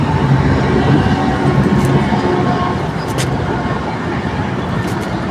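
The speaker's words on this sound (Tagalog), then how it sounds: "Ayan na naman ang LRT, oh." A loud, close LRT light rail train in the Philippines rumbling past continuously, with broadband roar and a faint high screech partway through.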